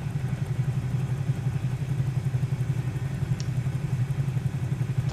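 A Cessna Skyhawk engine in Microsoft Flight Simulator runs at a steady low idle with a pulsing, throbbing drone, heard alone and close throughout.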